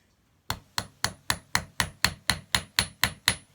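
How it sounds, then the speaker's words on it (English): Twelve sharp, evenly spaced hammer blows strike a metal crimp flat on a metal block while making leather lasso earrings, each close, bright tap ringing briefly after a short silence. "we're going to hammer it to flatten it so that way it secures"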